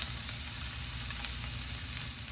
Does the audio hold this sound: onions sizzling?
yes